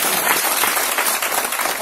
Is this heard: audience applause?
yes